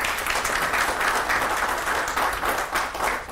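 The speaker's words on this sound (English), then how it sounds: "let's give another round of applause to the Chief of the South African Navy" A room full of people applauds the Chief of the South African Navy at a media briefing, dense continuous clapping close and loud throughout, no voices over it.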